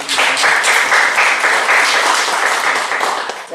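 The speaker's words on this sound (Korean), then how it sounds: "박수로 감사드립니다" A church congregation applauds during a sermon, a loud, close, dense burst of many people clapping that holds steady for a few seconds and then drops off at the end.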